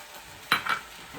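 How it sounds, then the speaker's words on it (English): Shrimp and chicken stir fry with carrots and onions sizzling quietly in a pan, broken by one sharp stirring scrape and a brief second clatter of the utensil, close by with no talking. "the stir fry has been cooking for a little while, few minutes"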